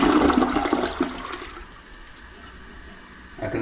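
A toilet tank refills through its fill valve, starting with a rushing surge of water that settles into a quieter hiss and trickle, fairly close.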